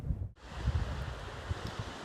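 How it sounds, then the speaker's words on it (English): Gusty wind buffets the microphone on a coastal cliff path over a distant wash of surf, rough and continuous with a brief dropout early on. "windy path up there, beautiful cliffs and surf out there"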